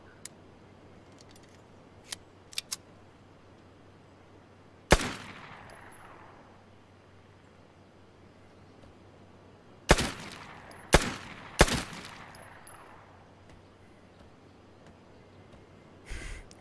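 Gunshots fired at bottles in the Vigor video game, a single sharp report followed by a cluster of three close shots with short reverberant tails, plus a few faint clicks beforehand over quiet ambience.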